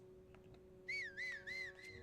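In-game whistle from Zelda: Tears of the Kingdom: three short, bright whistle bursts in quick succession, then a fainter fourth, over a steady low hum of background music.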